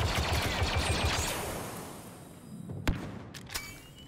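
Blaster gunfire from Star Wars Battlefront 2, a rapid run of shots that fades out, then two sharp separate cracks near the end.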